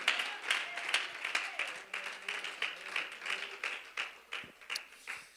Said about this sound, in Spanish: Si ese aplauso es para Él, suelte sus dos manos y que sea con todo su corazón